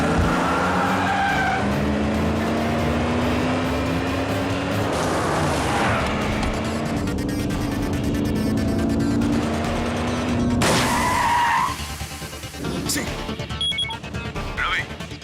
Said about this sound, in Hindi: गाड़ी का टायर पंचर हो गया